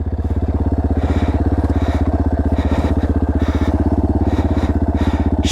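Dirt bike engine running steadily on a downhill 4x4 OHV trail, a loud, close, continuous rhythmic chug with no talk over it.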